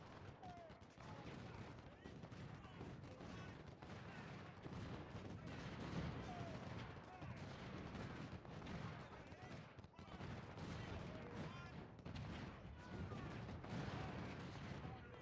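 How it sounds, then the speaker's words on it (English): Distant artillery and musket fire from an Ultimate General: Civil War battle at Fredericksburg, a faint, continuous crackle of scattered shots and dull booms rolling on throughout. "keep targeting the enemy with my artillery"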